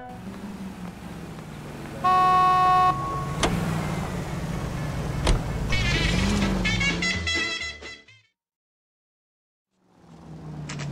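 A 1940s car driven through Los Angeles streets in L.A. Noire, engine hum under ambient traffic with a sharp horn toot and a few clicks, then a brief dead-silent gap before the drive sound returns.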